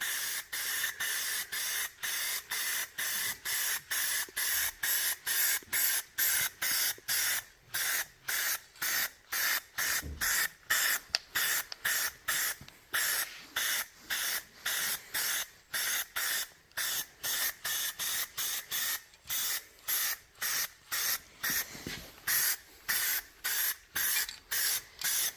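A spray can lays light coats of paint onto a metal mill in rapid, evenly spaced short hissing bursts that repeat steadily and close by for the whole stretch, with no talking.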